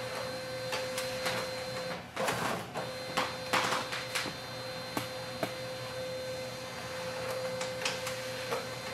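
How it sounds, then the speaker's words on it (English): A Brother MFC-L2750DW laser multifunction printer scanning a document: a steady motor hum with a constant tone, interrupted by irregular mechanical clicks and short whirring bursts, close and alone. "That's the scan to PC with this printer."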